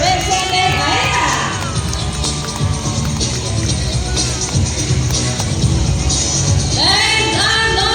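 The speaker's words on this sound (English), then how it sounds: "Our round of applause for Vincent and Aya." A crowd cheers and applauds loudly and steadily at an Ocean Park bird show, with whoops and scattered shouts rising throughout.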